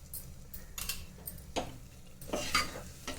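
Puran batter with ghee stirred in a pan, a few close scraping strokes of a spoon against metal over a soft sizzle, irregular and unhurried, with no voices.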